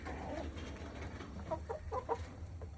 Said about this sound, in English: I got 11 layer chicken